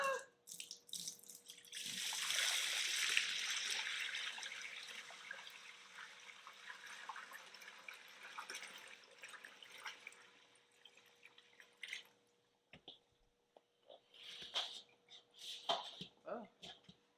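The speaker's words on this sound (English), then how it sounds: "I'm going to pour out this water and put some warm water" Tap water runs loudly into a container holding frozen chitterlings, a steady rushing pour that tapers into quieter trickles and splashes, with brief bursts of handling near the end.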